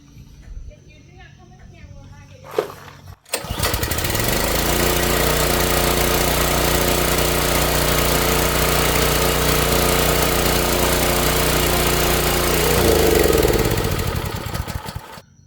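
A garden tiller's small engine starts after a brief pull and runs loud and steady at close range, then rises slightly before it cuts out, with a few words spoken before it starts.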